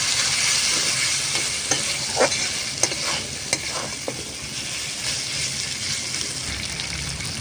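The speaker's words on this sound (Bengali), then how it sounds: "এই যে ভেজে রাখা গেরিগুলো সব দিয়ে দেব দিয়ে মশলার সাথে একটু আবার ভালো করে কষিয়ে নেবো" Snails sizzle in hot oil with onion and masala in a pan, a steady close frying hiss broken by a few sharp scraping stirs, with no voices.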